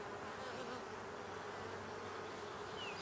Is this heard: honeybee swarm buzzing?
yes